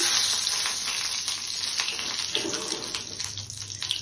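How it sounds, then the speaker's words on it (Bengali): Two dried red chillies frying in mustard oil for a Bengali egg curry, a continuous hissing sizzle that stays fairly even and close, slightly fading toward the end, with no speech. "আর একটু সরষের তেল দিয়েছি, মিঠা তেল দিয়ে সেই তেলেই 2টো শুকনো লঙ্কা দিয়ে দিচ্ছি।"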